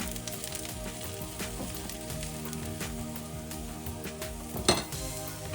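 Lamb pieces sizzle steadily as they are stirred and coated in a pan, a continuous crackling fry with occasional utensil scrapes and one sharp clink near the end, close and fairly loud.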